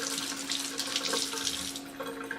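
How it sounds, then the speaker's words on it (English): A makeup brush held under a running tap at a sink, a steady close hiss of flowing water with light splashing shifts as the brush moves, no talking. "I'm going to stick my brush in the water"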